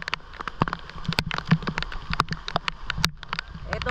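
Rain patters steadily with sharp drips and splashes close by at a swimming spot, irregular taps landing on a surface over a soft background hiss.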